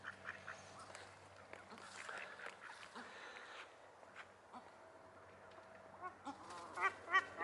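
Ducks quacking at night, faint and scattered at first, then several sharper, closer quacks near the end over a quiet background.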